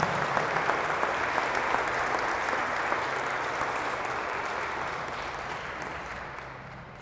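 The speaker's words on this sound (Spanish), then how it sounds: "Le damos un aplauso al Padre." Audience applause welcoming a priest before his talk on Church and liturgy, a dense, steady wash of many hands clapping that starts full and slowly tapers over about seven seconds.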